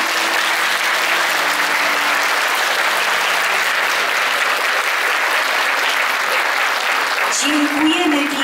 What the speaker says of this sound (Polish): Te brawa mogą być jeszcze raz tak samo duże.